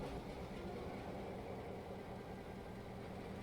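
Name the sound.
locomotive engine starting up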